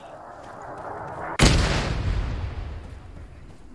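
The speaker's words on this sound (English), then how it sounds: "There's an enemy. Mortar." Mortar fire in the Arma 3 video game: one sharp, heavy blast cracks out over quiet background rumble, then rolls into a long, fading boom.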